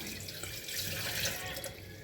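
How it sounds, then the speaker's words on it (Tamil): Water pours steadily into a vessel for jackfruit juice, a continuous splashing rush close by, with no one speaking. "ஃபஸ்ட்டு தண்ணி மாத்திரம் ஊற்றிக்கலாம்"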